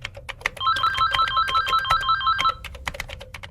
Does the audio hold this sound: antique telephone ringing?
yes